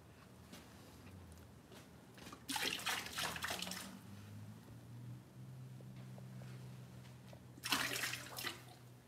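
Liquid, about 100 units at a time, poured into a motor during an evening engine class, making two separate splashing, gurgling bursts of pouring with a quieter low hum running between and after them.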